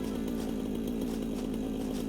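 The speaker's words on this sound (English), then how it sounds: "with a chainsaw you can really get it going" Chainsaw in the video game Satisfactory cutting through foliage, a steady loud droning buzz running unbroken with a dense low engine tone and no talk over it.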